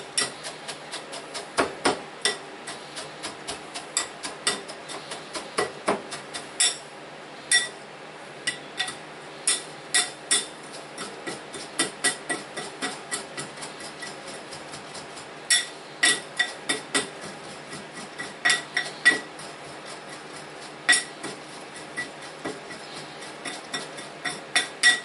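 A spoon repeatedly clinks and scrapes against a bowl while a brown sugar mixture is stirred, producing irregular bursts of sharp taps that pause briefly and resume, close and fairly loud, with no talking.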